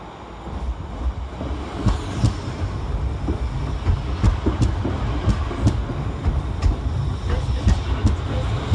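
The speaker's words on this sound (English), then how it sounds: "Departing on the near side, working the 1504 ScotRail service to Ayr" ScotRail Class 380 electric unit 380.105 departing Glasgow Central station, a rolling rumble with rhythmic clicks of wheels over rail joints growing steadily in the open station, with wind noise.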